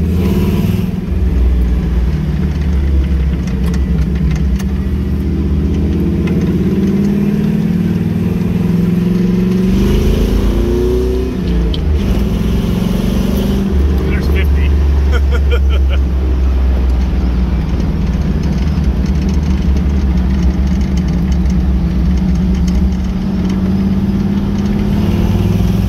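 A 1979 Jeep CJ7 engine drones steadily while driving, loud and close from inside the cabin, with shifts in pitch as it revs and some faint rattles over the continuous rumble.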